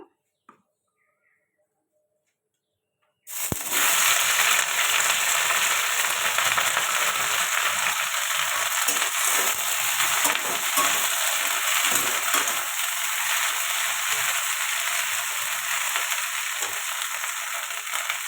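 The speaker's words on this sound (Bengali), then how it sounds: "এটা ভালো করে ভেজে নেব, এইভাবে ভেজে নেব" Okra, potato and shrimp fry in hot oil in a wok, a loud steady sizzle that bursts in after about three seconds of near silence and holds, close and unbroken, with faint stirring underneath.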